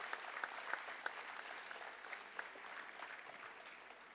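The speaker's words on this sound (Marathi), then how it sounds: "आपण सगळ्यांनी अगदी खणखणीत आवाज जोरदार टाळ्या वाजवून त्यांचंही जोरदार" An audience applauds at an open-ground gathering to welcome officer Sanjay Govilkar, who captured Kasab alive. Many hands clap loudly and steadily the whole time, a dense continuous roar with a few sharper individual claps.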